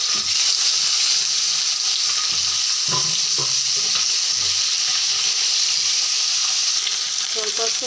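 Loud, steady sizzling of eggplant frying in hot oil, with a few scrapes and knocks of stirring partway through.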